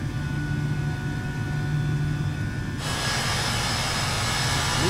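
Airbus A319 jet engines in a flight simulator, heard from the cabin of an ageing airliner as a steady, continuous roar that brightens and grows louder partway through.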